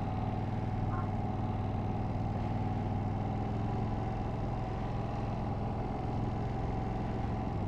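A Ducati V2 motorcycle engine, a Panigale V2 or Multistrada V2, idles steadily with a smooth, even low hum held at constant loudness throughout, with no voices over it.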